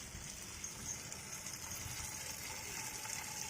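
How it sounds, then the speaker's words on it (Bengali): Steady gushing of water being drawn for bathing Jimmy the dog, a continuous hiss with a low pump-like hum underneath, fairly quiet and unbroken, with no voices. "এই জিমি চান করবে, জল নেওয়া হচ্ছে"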